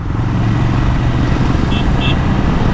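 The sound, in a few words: Ducati Scrambler motorcycle clutchless downshift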